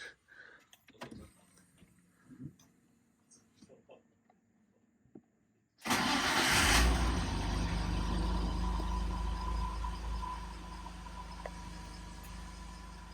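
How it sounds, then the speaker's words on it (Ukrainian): After some quiet rustling and faint sounds, a BMW E46 with a swapped-in 2.5-litre M52 six-cylinder engine starts up and runs with a smooth, steady hum, close by and fairly loud. "працює як шестициліндр, приємненько, мені подобається"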